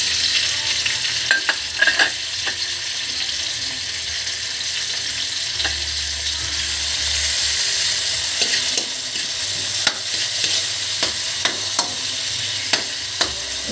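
Chicken adobo sizzles in a pan as tomatoes are added, a constant frying hiss under repeated sharp clicks and scrapes of a utensil stirring close by.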